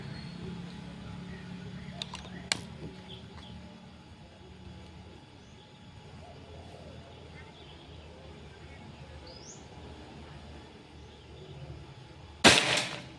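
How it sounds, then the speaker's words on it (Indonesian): After a long, quiet outdoor stretch with faint distant clicks, a Pajero Gun air rifle fires one sharp, close shot near the end of an accuracy test, a sudden loud crack that fades quickly. "Tembakan kedua."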